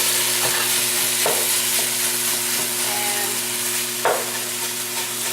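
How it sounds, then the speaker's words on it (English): Italian sausages sizzling in a pan with eggplant, a steady close frying hiss with a few soft stirring scrapes and taps, no voices. "I'm just going to add the sausages now"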